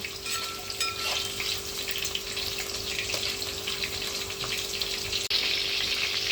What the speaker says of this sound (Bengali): দেখুন বন্ধুরা আমার চিকেনটা ভাজা হয়ে গেছে